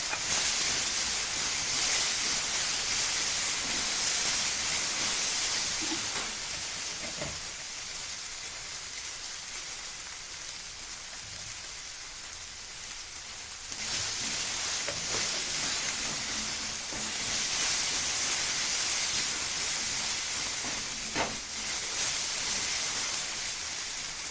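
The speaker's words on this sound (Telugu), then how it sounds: "ఇప్పుడు పసుపు, ఉప్పు వేసి అవి కూడా ఫ్రై అయ్యే వరకు ఫ్రై చేయాలి." Turmeric and salt fry in a hot oil tempering for a smashed potato dish, producing a loud, continuous hissing sizzle that dips slightly midway and then swells again.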